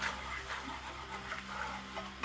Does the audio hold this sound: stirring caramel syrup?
yes